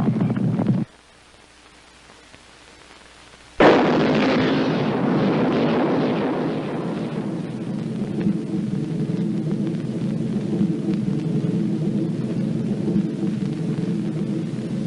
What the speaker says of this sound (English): The United States decided to use its new antimatter bomb.